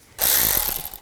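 A ratchet tightening a bolt on a 1999-2006 Chevrolet Silverado battery tray support, a quick burst of close metallic clicking lasting under a second.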